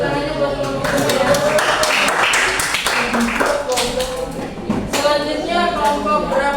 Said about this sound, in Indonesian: kasih tepuk tangannya buat kelompok ya